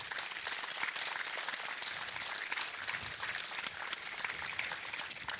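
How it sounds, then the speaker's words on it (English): A company audience applauds a team's contribution, steady dense clapping held at an even level throughout, with no talking over it. "So please give them a round of applause for their exceptional contribution and effort."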